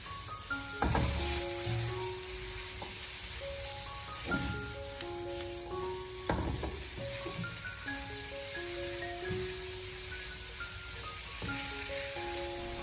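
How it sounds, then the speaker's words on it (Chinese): Bamboo shoots and garlic sprouts stir-fry in a hot wok, a steady loud sizzle broken by repeated scraping tosses of the spatula, with music playing throughout. "再把蒜苗也放进来，然后再继续的将它快速的翻炒一下"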